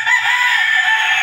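A single loud rooster crow rings out close by, one sustained call with no other sounds around it.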